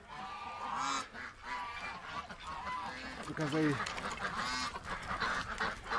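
Ducks in a backyard pen honk and quack repeatedly at close range, their calls overlapping with a person talking nearby.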